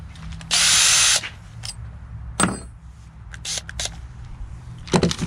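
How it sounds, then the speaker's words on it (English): Power drill boring a 3/8-inch hole while mounting a Harley-Davidson Air Wing Tour-Pak rack, one loud steady whine lasting about a second, followed by scattered clicks and handling noises. "All right, got my bigger hole drill."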